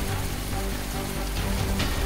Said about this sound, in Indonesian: hujan deras mulai mengguyur kampung Pasir Bogor